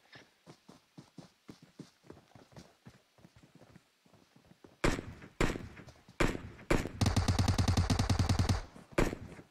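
Gunfire in a battle royale video game match: scattered distant shots in an irregular rhythm, then louder close bursts and a dense rapid-fire stretch of automatic shots, without speech.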